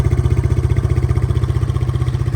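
A Yamaha BWS 125 scooter in unprepared condition, fitted with a tuned aftermarket exhaust, runs close by with a loud, steady, rapidly pulsing engine throb that holds an even idle for the whole stretch.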